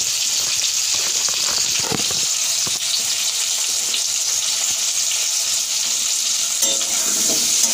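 Potatoes fry in a pan with a loud, dense, continuous hiss and crackle, steady throughout, with a couple of soft utensil knocks near the end. No one talks.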